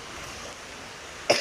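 A single short, sharp cough from a person bursts out at the very end, close and loud after a quiet stretch of faint room noise.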